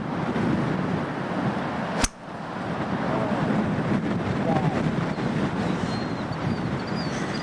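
Strong coastal wind sweeps across a links golf course at Sheep Ranch, Bandon Dunes, a steady loud roar buffeting the microphone with a brief thump partway through and faint gull-like cries in the gusts.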